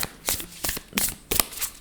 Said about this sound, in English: I'm going to shuffle it this way.